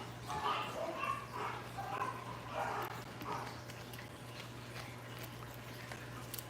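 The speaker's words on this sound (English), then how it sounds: "I bet all that barking's really helping, Nathan." A dog barks in a few quick bursts early on, moderately near, over a steady low hum. The barking fades to quieter background noise in the second half.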